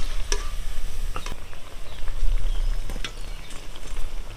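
Potato pakoras fry in hot oil, a close, loud bubbling sizzle with scattered sharp crackles and stirring clatter running steadily throughout, with no voices.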